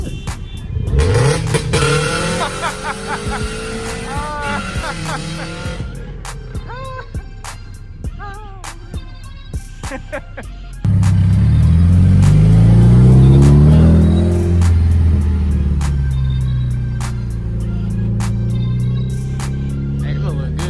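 A tuner car with a big turbo revs and accelerates, its engine roar and rising whistle building loud and close, then a heavier pass surges by with strong low rumble; no one speaks over it.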